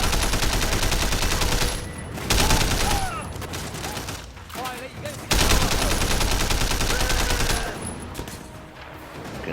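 Steady, dense gunfire in the Sleeping Dogs open-world action game, rapid automatic bursts running almost continuously with brief lulls, loud and close, with someone talking over it.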